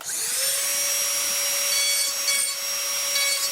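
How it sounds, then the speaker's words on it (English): A carving tool works a wooden pumpkin, producing a continuous high-pitched whine with a rough, scraping edge. It is close and steady, with slight swells as the cut bears in. "Let's carve on it a little bit more."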